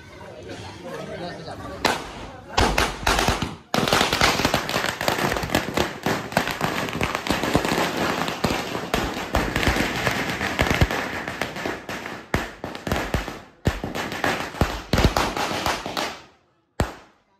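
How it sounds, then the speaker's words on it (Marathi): Firecrackers set off during a Ganesh immersion procession in Ghodivali village explode in a long, dense, rapid string of loud cracks and bangs, with chatter from the crowd around them. "फटाके लावते आपला सोम शेट"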